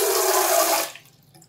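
Water gushes steadily from a faucet fitted with a new gasket, a loud, broad rush that stops abruptly partway through, leaving quiet.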